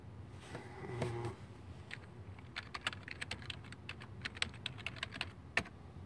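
Keys clatter on a Dell Dimension 4600 computer keyboard as a password is typed, a soft, irregular run of close clicks over faint background hum.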